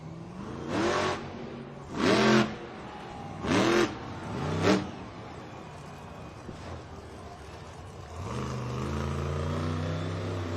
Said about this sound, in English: it looks like we got his engine restarted